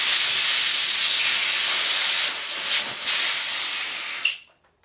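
Pressurized air hose being unplugged from a Drozd Blackbird gun, a loud continuous hiss of escaping air for about four seconds that cuts off abruptly.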